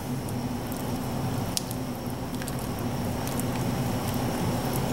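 A spoon stirs ingredients into dirty rice in a pot, making a steady soft squishing and scraping with a few faint clicks, close up and unbroken, with no talking.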